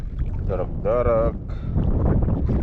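Strong gusts buffet the microphone in loud rumbling bursts, with voices talking over the blustery roar.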